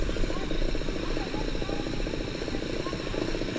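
A race car engine runs steadily nearby at a historic acceleration event, a continuous low rumbling drone with no speech heard.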